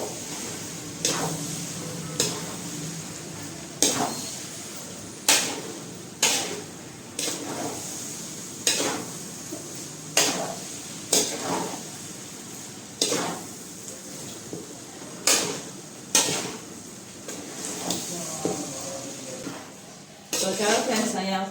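A spoon stirs and mixes rice for pulao in a pot, with regular sharp scrapes and clinks against the metal every couple of seconds over a soft sizzle, close by and without talk.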